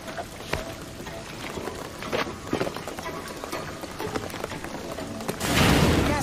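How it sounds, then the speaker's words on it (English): Rain in the video game Shadow of the Tomb Raider falls as a steady wash with scattered sharp splashes and footstep-like taps, swelling into a heavier downpour near the end. "What I'm telling you is the rain is gonna flood it."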